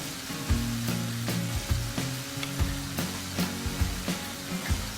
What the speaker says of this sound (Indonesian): Langsung kita akan tumis bawang bombaynya.